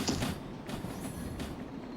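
Rumbling, creaking train noise from a video game, with a 600-ton train hauled by two DE6 diesel locomotives, running steadily at moderate level with broad rail-car clatter throughout.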